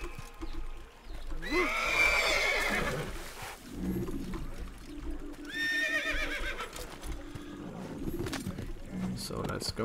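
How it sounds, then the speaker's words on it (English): In the video game Assassin's Creed, a horse neighs loudly twice, with hooves clopping in between and cooing birds in the background, close and prominent. "Steal this horse."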